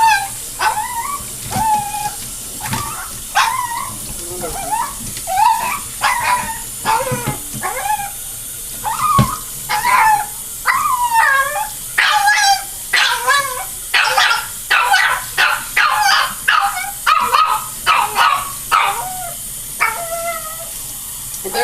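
A small dog in a plastic tub bath whimpers, yips and barks loudly in repeated bursts, close up, over a constant hiss of running water.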